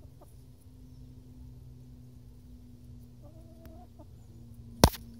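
Backyard hens at a winter allotment give soft, low clucks under a steady hum, with one sharp close squawk or peck near the end.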